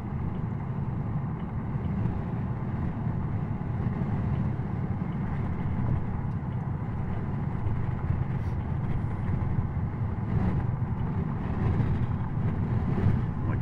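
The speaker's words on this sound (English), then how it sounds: "blowing some friggin' wind" Strong wind buffets the microphone along a roadside, a loud, continuous rushing roar with no pauses.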